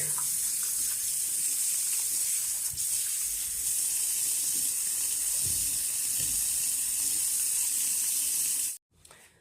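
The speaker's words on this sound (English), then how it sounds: "And I am just gonna rinse it out a bit." Tap water runs steadily into a sink while conditioner is rinsed out of synthetic hair, a constant hissing splash that stops abruptly near the end.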